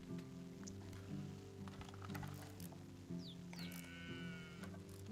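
Sheep bleat in the medieval village-building game Medieval Dynasty, a few short calls rising over steady background music and soft rain-like ambience.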